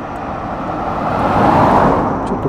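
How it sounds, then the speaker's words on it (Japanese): Steady traffic rolls along a town road in the center of Inukai, Bungo-Ono, Oita, one vehicle swelling louder midway as it passes close, with a continuous roadway rumble and no talking. "車が結構頻繁に通りますね"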